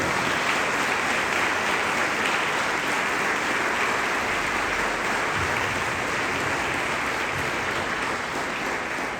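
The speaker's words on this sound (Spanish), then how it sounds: "Denle un fuerte aplauso al Señor." A church congregation claps loudly and steadily for several seconds, a dense, even wash of applause with no voices standing out.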